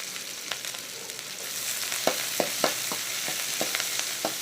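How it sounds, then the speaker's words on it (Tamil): Garlic, chili and large onion sauté in oil in a pan for a spinach dish, giving a steady close sizzle with sharp clicks and scrapes of stirring about every half second, and no voices. "எல்லாமே நம்ம சும்மா ரஃப்பாக வதக்கிக்கலாம்."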